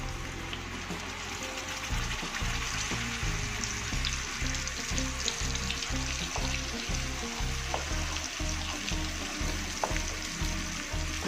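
Ground spice paste dropped into 10 ml of hot oil for an Acehnese beef bone soup, giving a steady crackling sizzle with dense popping spatter throughout, fairly close and continuous, with no voices.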